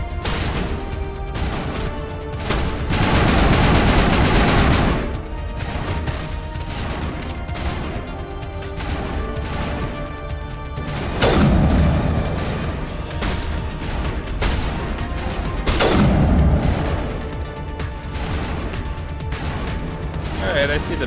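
Heavy gunfire and booming impacts from the video game Mass Effect, including sniper rifle shots, come in loud repeated bursts over a dense, noisy combat backdrop.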